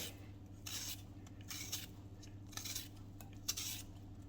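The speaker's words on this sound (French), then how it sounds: "on va venir tout simplement éplucher les pommes de terre" Rhythmic scraping strokes of a peeler on potatoes, short repeated rasps close by over a low steady hum.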